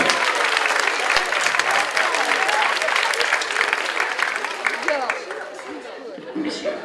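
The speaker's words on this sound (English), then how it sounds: "Just give your volunteers a round of applause." Loud, sustained applause from a crowd, steady for several seconds before thinning out slightly, with some chatter mixed in.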